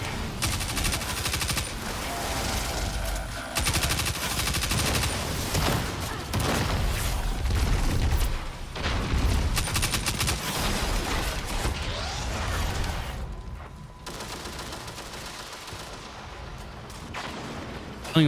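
Heavy gunfire in the video game Destiny 2, with dense bursts of shots, booms and sniper cracks blending into a loud, chaotic stream of combat noise.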